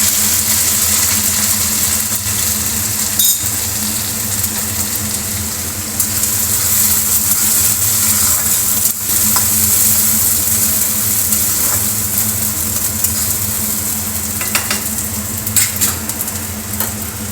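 Grated coconut frying in hot oil with cumin seeds, two dried red chillies and bay leaf, a steady broad sizzle holding level throughout, with occasional stirring scrapes and faint background hum.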